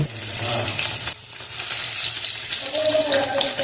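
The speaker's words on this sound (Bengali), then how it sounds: "এখন খুব ভালো করে একটু লালচে করে ভেজে নিচ্ছি।" Paneer pieces with turmeric fry in hot oil, a loud, busy sizzle and bubbling that runs throughout with a short dip partway.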